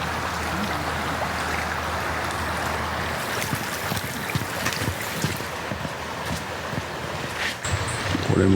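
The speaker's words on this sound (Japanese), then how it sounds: "さすが川沿い、音が聞こえてきますね。" A river flows beside a walking path in Kamikochi, Nagano, making a steady, broadband rush of moving water with scattered splashes and rustles, moderately loud and continuous throughout.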